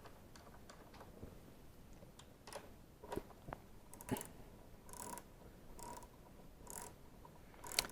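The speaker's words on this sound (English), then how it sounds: "I'm going to use my 10 millimeter socket and ratchet." A 10 millimeter socket and ratchet work a car battery terminal on a Saab 9-3, giving quiet, irregular clicks and metallic ticks in a calm setting.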